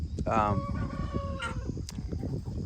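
Farm chickens under a heat lamp cluck and squawk close by, with one hen calling loudly over a steady low background rumble.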